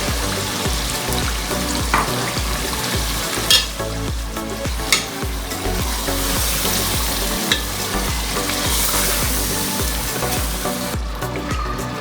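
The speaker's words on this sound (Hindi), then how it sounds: "टमाटर डाल के अच्छी तरह भूनने के बाद इसके अंदर डाल दूँगी दही।" Yogurt being stirred into tomato masala frying in a pan for chicken tikka karahi, with steady loud sizzling and repeated scraping and stirring strokes throughout, no voices.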